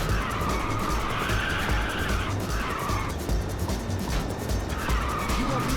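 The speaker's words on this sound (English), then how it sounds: "Somebody fired off some nitrous." A racing car in the video game Ridge Racer fires a nitrous boost, a continuous loud engine roar with tire squeal and skidding that hold steady throughout with slight surges.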